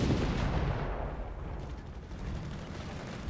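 Rocket artillery slams into a base in the Company of Heroes 3 game, a dense, continuous roar of heavy impacts and rumbling blasts that stays loud throughout.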